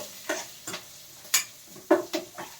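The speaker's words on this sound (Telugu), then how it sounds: "క్యాప్సికమ్ అలాగే పచ్చిమిరపకాయల ముక్కలు, మనం వేసుకున్న ధనియాలు, జీలకర్ర, పల్లీలు ఇవన్నీ వేగాలి. చక్కగా వేగుతున్నాయండి." Capsicum and green chilli pieces frying with coriander seeds, cumin and peanuts in a pan, a quiet sizzle broken by several sharp scrapes and stirs of a spoon, with no voices.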